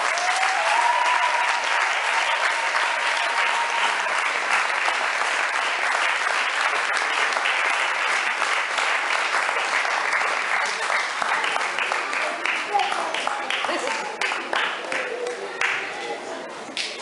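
Wedding guests in a church applauding and cheering to welcome a pastor, a long, dense, even roar of clapping from a large crowd that thins out toward the end.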